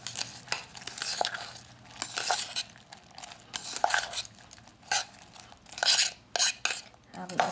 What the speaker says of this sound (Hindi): मुरमुरा और ये सारी चीज़ की मिक्स।